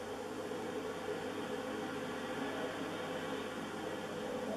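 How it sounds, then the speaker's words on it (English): An Antarctic blizzard rages outside a small tent, a dense, steady roar of wind-driven noise heard from inside, constant and unbroken with no voices. "on my first morning I was woken up by this howling blizzard"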